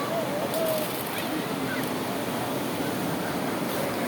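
Sea waves wash steadily onto a beach in a continuous broadband roar with wind buffeting the microphone, and faint voices are heard briefly.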